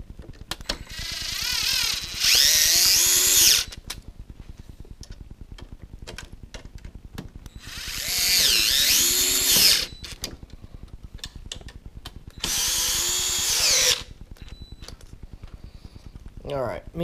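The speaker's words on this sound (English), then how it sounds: "I like my power screwdrivers." A power screwdriver drives screws into an Alienware Aurora case during a liquid cooling system replacement, whirring in three loud bursts of about one and a half to two seconds each, separated by quieter handling noises.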